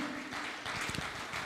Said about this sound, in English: clap your hands and praise him